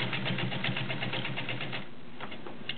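Vintage Kenmore Model 29 sewing machine with a size 16 needle stitching through five layers of Levi's denim, a steady rapid mechanical chatter that runs for most of the clip, then eases into a lighter, slower patter near the end.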